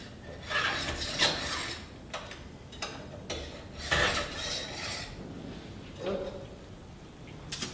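A file rasping across a chainsaw chain in short, uneven strokes, close and moderately loud, with pauses between passes and some clinking.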